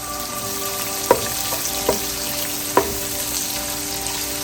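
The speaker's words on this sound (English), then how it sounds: "so you're gonna brown the onions on medium-high heat" Onions browning over medium-high heat in a pan for a spinach chicken curry, a steady soft sizzle with a few sharp clicks or taps, no talking.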